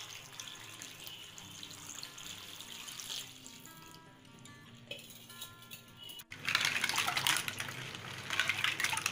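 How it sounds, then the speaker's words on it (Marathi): Clean water pours onto clams (tisrya) set in a container to be washed, first as a quiet trickle and then as a louder, steady gush near the end of the clip. "त्यासाठी मी इथे पाणी टाकणार आहे"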